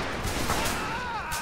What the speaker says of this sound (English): Present arms. Fire.